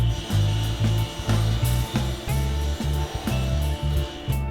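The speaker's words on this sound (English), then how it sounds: "cut the back at an angle of 20 degrees so that it blends in better with the sides. And we'll do that at the table saw" A table saw cuts wood for a challenge coin holder at a 20-degree bevel. The blade whine rises and falls in repeated loud bursts as the piece is fed through, close by, with no talk.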